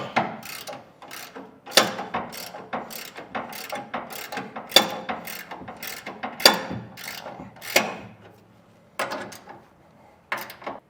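A ratchet tightens the clamp bolts of a B and W gooseneck trailer hitch being installed on a 2016 Chevrolet Silverado, giving repeated bursts of close, crisp clicking strokes with short pauses between them.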